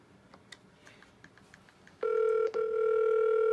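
An IP phone on a PBX line sounds with a loud, steady electronic ring tone that starts abruptly partway through, breaks off briefly, then continues, following a few quiet background clicks.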